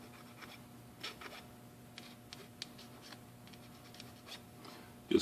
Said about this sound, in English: Just clean up the plastic a little bit so it functions better when it's put together.